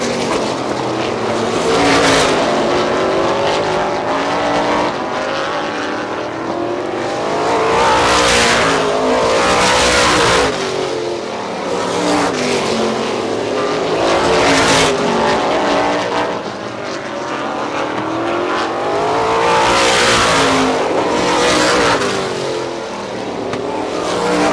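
Race cars lapping at Star Speedway, New Hampshire, their engines roaring past in repeated loud surges every few seconds, revving and fading as each pack sweeps by, with no clear talk.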